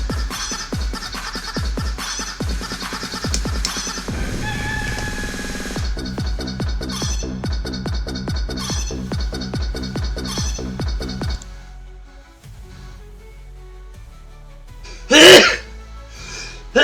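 A man imitates a hen with his voice, producing a long run of rapid, rhythmic clucking bursts that are loud and close. The clucking breaks off into quieter pauses and ends with a single sharp vocal burst.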